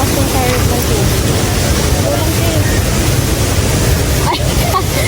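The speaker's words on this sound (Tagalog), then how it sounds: "malakas yung current ng tubig" A strong water current rushes in Sagada, producing a loud, dense, unbroken roar that fills the whole clip close by.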